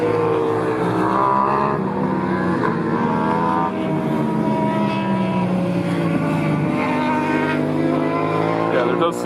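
A four-cylinder motorbike races past at an amateur motorbike race meet, a loud sustained high-revving engine howl with shifting pitch, heard among other racing engine noise.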